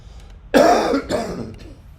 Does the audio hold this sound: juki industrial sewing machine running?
no